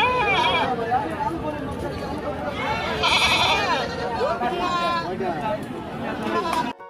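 A goat gives a few wavering bleats close by, mixed with a murmur of background voices and chatter.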